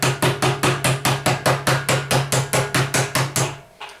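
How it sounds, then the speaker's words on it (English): Hammer taps on the drum nut of a Hotpoint Indesit Ariston washing machine during drum replacement, about fifteen sharp, evenly spaced metallic knocks ringing briefly, close and loud with no talk. "Give the nut a little tap."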